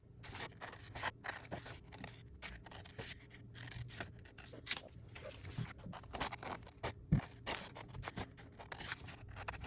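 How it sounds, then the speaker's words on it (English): Scissors snip steadily around paper circles, a close series of quick crisp cuts with faint rustling of the paper between them, quiet and with no voices. "continue to cut all the way around"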